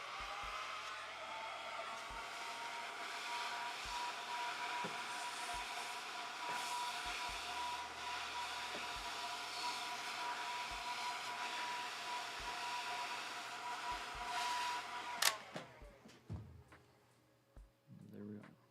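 Heat gun shrinking heat-shrink tubing on a USB cable, a steady blowing whir that runs for about fifteen seconds before cutting off, followed by a few handling clicks and knocks.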